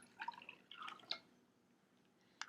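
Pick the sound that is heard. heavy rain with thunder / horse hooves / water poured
water poured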